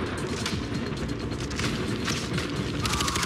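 Gunfire from a Far Cry 4 battle in an arena fight, with a dense steady mechanical rumble and bursts of shots over continuous game noise, no speech.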